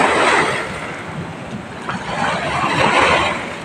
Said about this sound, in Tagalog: malakas po ang mga alon na ipinibigay niya